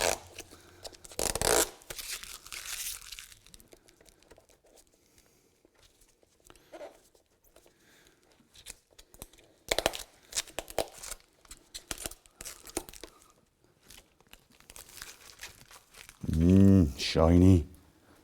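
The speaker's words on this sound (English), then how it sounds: "There's something immensely satisfying about pulling off the protective film to expose the beautifully clear, unblemished plastic underneath" Protective film is peeled off clear plastic for an Austin Mini bezel, giving sharp ripping crackles in short bursts, loudest early on and near the ten-second mark, with scattered softer crinkles between and a voice briefly near the end.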